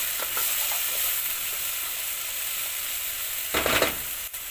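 Sliced sausage seasoned with beef masala and paprika sizzles in a pan, a dense, even hiss throughout with a louder surge of crackling as the mixture is stirred near the end, close and without talk.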